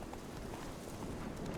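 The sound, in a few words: horse galloping hooves in the video game Witcher 3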